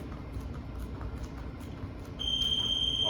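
A workout interval timer lets out a sustained high electronic beep during an online exercise class, sounding alone for about a second over quiet room noise.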